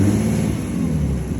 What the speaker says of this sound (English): Let me rev it up and see what happens.